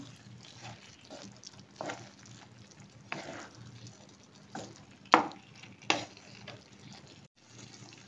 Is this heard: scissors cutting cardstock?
no